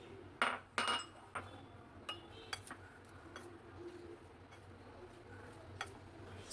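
Spoon clinks and scrapes against a bowl while mixing spice mixture into okra (vendi) for crispy fried vendi, with a few sharp knocks early on, then softer scattered taps over low background noise.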